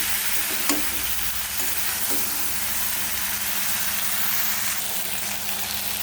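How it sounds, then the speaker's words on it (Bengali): Spices with turmeric and salt are stirred in a hot frying pan for a ridge gourd and potato curry, giving a steady close sizzle with soft scraping throughout. "এবার মশলাটাকে ভালো করে নেড়ে চেড়ে নেব।"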